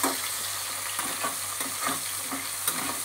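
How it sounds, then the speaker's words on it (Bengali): Vegetables, tomatoes among them, frying in a pan while being stirred, giving a steady sizzle broken by regular scraping strokes at close range, with no speech. "এইবার আমি এগুলোকে খানিকক্ষণ ভাজা করে নেব, লাল লাল করে।"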